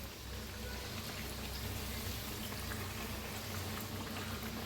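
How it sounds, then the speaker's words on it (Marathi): Masala vada made from soaked dal fry in hot oil, a close, steady crackling sizzle with a dense bubbling hiss throughout and no talking. "मस्त तळायला लागलेले आहेत"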